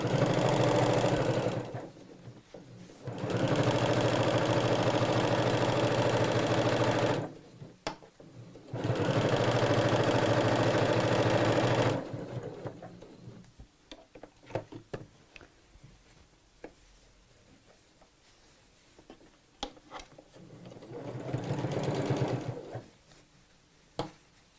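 A sewing machine stitches piping in several loud, steady runs, each a fast whirring rattle, broken by quiet pauses filled with soft clicks and handling noises.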